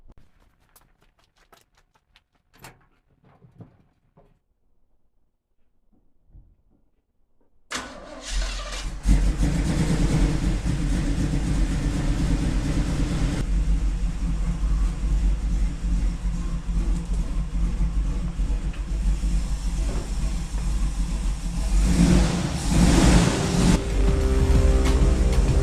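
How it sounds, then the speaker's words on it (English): After a few quiet knocks, a small-block car engine cranks and catches, then runs loudly and steadily, rising into a revving roar near the end. "Let's see if I can get this started up again."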